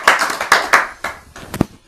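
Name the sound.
audience applause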